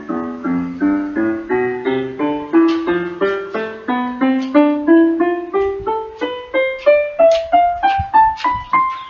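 Single keyboard notes played one at a time on an electronic keyboard, climbing steadily from bass to treble in an even rhythm of about two notes per second, each clear and close with a short decay, no talking.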